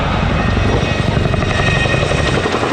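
Royal Air Force Boeing Chinook twin-rotor helicopter departing at an air show, a loud, close, continuous rotor and turbine roar with a throbbing low beat and no talk.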